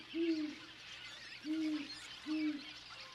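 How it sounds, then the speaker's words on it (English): Great horned owl hooting from cliffs in North American wilderness: three deep, even hoots spaced about a second apart, fairly close and clear over a faint hiss of background ambience. "Great horned owls share these cliffs."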